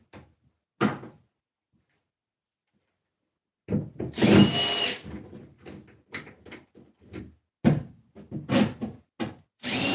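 A power drill whirs in short bursts, driving a screw into a shower wall where it misses the stud, with brief knocks and quiet gaps between runs.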